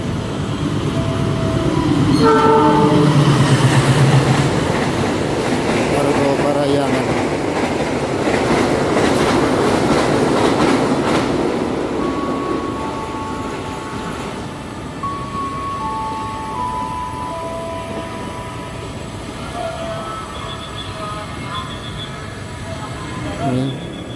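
A train rushes straight through Tambun station in Indonesia, loud and close at first with rumbling and clattering wheels, then fades away, leaving faint tonal rail sounds and voices nearby.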